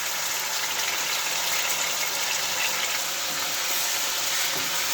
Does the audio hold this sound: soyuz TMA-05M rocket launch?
no